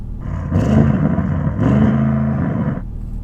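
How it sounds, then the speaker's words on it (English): An Audi RS6 engine revs in two loud, close bursts, each rising and holding a droning note before dropping back, with the second blip following shortly after the first. "Let's rev up the Audi RS6 to see if it can sound better than this naturally aspirated V10"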